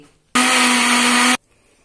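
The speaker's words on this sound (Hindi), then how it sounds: "मिक्सी का जार कर देंगे बंद और इसको हम अच्छे से ब्लेंड कर लेंगे" A blender whirs loudly at a steady high pitch for about a second while blending a marshmallow milkshake, starting and stopping abruptly, close by.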